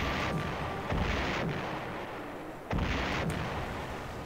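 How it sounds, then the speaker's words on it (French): Mortar rounds fire in the Army Men RTS strategy game: two heavy booming blasts about two seconds apart, each ringing out into a long rumbling decay, with no talk. "Heureusement qu'on avance au mortier."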